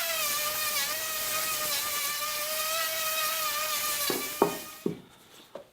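Power sanding wood with 80 grit sandpaper: a steady, loud motor whine with a wavering pitch that runs for about four seconds, then cuts out into a few knocks and scrapes.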